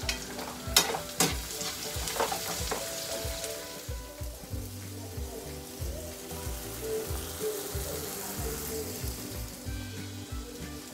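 Garlic and onion sauté in a pan, giving a close, continuous sizzle with clinks and scrapes of a utensil stirring, plus a low hum underneath and no talking.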